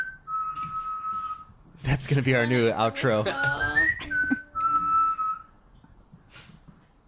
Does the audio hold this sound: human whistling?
yes